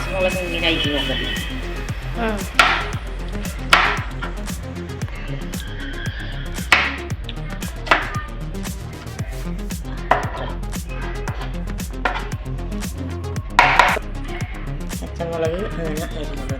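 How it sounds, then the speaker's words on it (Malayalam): A knife chops green chillies for a beef curry in sharp, irregular taps on a board, loud and close, while a person talks throughout. "പച്ചമുളക് അങ്ങനെ അരിഞ്ഞത്"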